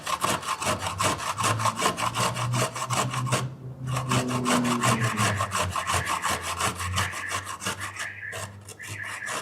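Raw beets are rubbed hard against a grater in a fast, steady rasping rhythm of rough scraping strokes that runs close and continuous for several seconds, with no voices.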